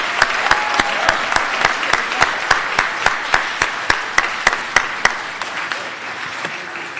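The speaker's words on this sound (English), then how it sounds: "Let's have one more round of applause for all these great women and men." Audience applause at a 2022 residency graduation ceremony, a dense roomful of clapping with a few distinct sharp claps standing out in a steady beat, gradually easing toward the end.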